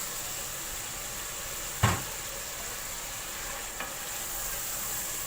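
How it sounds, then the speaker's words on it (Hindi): Minced meat (keema) frying in a pan makes a steady low sizzle with one sharp scrape or knock early on and a fainter one later. "कीमे को मैं अच्छी तरह से भून लूँगी।"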